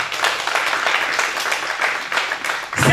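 A church congregation breaks into sustained applause, dense steady clapping from many hands filling the room for a few seconds before it tapers off.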